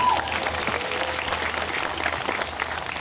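A crowd applauds steadily for a few seconds at a school closing ceremony, a dense wash of clapping hands in a roomy space.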